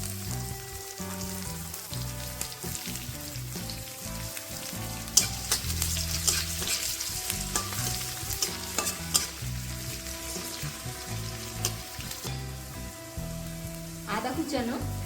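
Chopped garlic sizzles and spits in hot oil for a dal tadka, with curry leaves in the pan and stirring scrapes throughout; a steady close frying hiss with a few sharper crackles, no voices.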